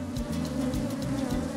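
Honey bees buzzing steadily at an apiary, a dense continuous drone with a low hum and flickering wing noise, fairly close and alone without any talk.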